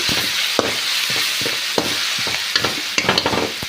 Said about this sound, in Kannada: ಇದಕ್ಕೆ ಒಂದು ಸ್ವಲ್ಪ ಉಪ್ಪನ್ನ ಹಾಕ್ಕೊಂಡು ಹೀಗೆ ಮಿಕ್ಸ್ ಮಾಡಿ